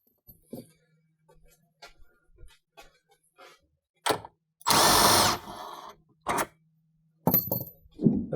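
Power tool removing two 10mm bolts from the front tub of a Rivian R1S/R1T: scattered clicks and taps of parts, then a loud, steady half-second whir of the driver, followed by short bursts of tool noise.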